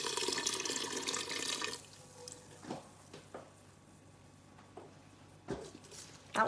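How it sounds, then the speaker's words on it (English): Broth splashes and trickles as it is poured into a pot of Brunswick stew, a steady liquid stream at first, then a few scattered drips and small clinks in a quiet kitchen. "I'm just going to pour some in."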